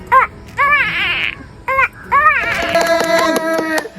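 A voice imitates a newborn human baby crying in a comedy performance, giving short wailing cries with pauses that build into a longer, strained sob near the end, loud and close.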